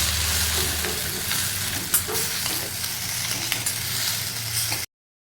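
Singapore noodles are stirred and tossed in a hot pan, with a continuous close sizzle, repeated scraping and a sharp clack partway through before the sound cuts off.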